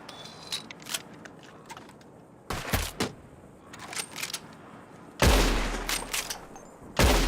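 A Red Dead Redemption 2 shootout on Xbox One X brings scattered gunshots: sharp single cracks and a few louder, booming blasts spaced irregularly, with quieter distant shots in between.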